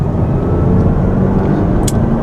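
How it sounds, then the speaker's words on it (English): Mazda 3 Grand Touring or Kia Forte 5-door turbo cruising on the road, a steady low engine drone and road roar heard from inside the cabin, loud and unbroken, with a brief faint high click near the end. "Oh yeah, this engine just loves to cruise."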